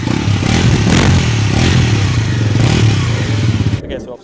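A Bajaj Pulsar NS400Z motorcycle engine idles loudly and close by with a throbbing, pulsing rumble, cutting off abruptly near the end.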